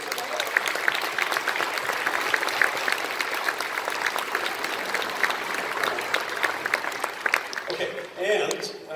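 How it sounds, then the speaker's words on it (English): A concert band audience applauds in a school-style concert hall, steady dense clapping filling the room for about eight seconds before thinning out near the end. "Give them a big round of applause."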